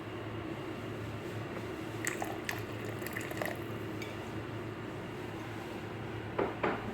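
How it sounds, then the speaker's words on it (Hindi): Vinegar pours into a pot of chicken corn soup, producing a faint liquid trickle and a few light splashes and drips over a low background hum, with no voices. "थोड़ा सिरका डालेंगे इसमें।"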